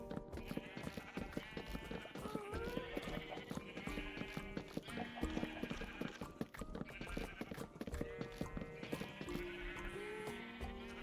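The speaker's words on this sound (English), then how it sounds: "Glad I chose standing right next to the very loud sheep for this." Sheep bleating loudly and repeatedly right beside the player in a farming build at spawn in a block-building video game, rising and falling in several overlapping calls, with clip-clop steps and faint game sounds underneath.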